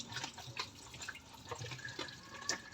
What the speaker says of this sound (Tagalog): mag-iigipon ako ng water